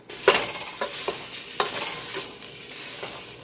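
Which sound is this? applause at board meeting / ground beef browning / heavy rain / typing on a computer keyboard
ground beef browning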